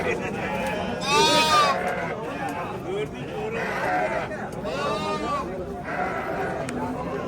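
Several angora goats bleat in repeated wavering calls, fairly close, at a livestock market in Angren, Uzbekistan, while people chat in the background.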